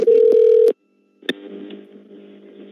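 Telephone dialing tones on a redialed call to a phone-support line: a loud steady tone with sharp clicks, a pause, then a fainter multi-tone line signal that continues.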